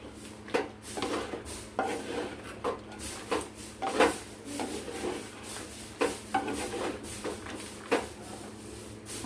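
Chicken coated in spice paste is stirred and turned in a clay pot, giving a steady series of close scraping, rubbing strokes every second or so with no one talking.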